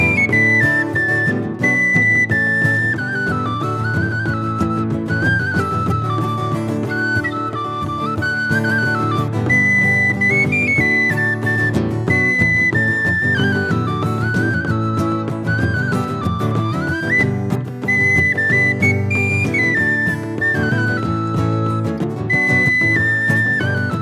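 Tin whistle playing a bright, lively melody over a live band at a lunchtime concert, the whistle line clear and prominent above steady accompaniment.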